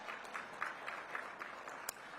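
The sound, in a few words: audience applause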